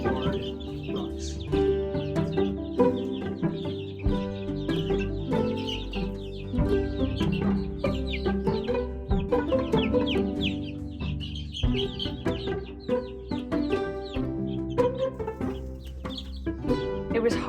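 Young Buff Orpington, Rhode Island Red, Green Queen, Easter Egger, Black Australorp and Hard Rock chickens cluck and peep continuously nearby, a busy overlapping chorus with faint talk underneath.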